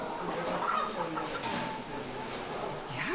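Around twelve thousand organic hens in a three-section poultry barn cluck and murmur together, a soft continuous flock chatter with a few louder individual calls rising above the background.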